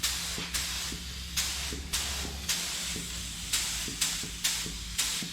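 A paint spray gun hisses in short repeated bursts, about one every half second, as a motorcycle helmet gets metal flake paint, close and steady with a small click at each trigger pull.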